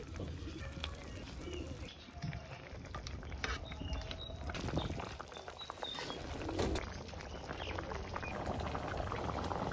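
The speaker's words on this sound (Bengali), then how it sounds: "মৌটা উতলে গেছে, এখন ভাজা মাছটা দিয়ে দেবো।" Fish curry broth with papaya and fried kalibaus fish bubbles in a steady, low simmer, with birds cooing and calling faintly around it.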